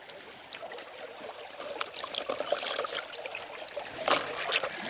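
Water sprays and trickles over steel grates from a sluice box as they are rinsed off outdoors, a continuous splashing and dribbling with a few brighter splashes, close and moderately loud.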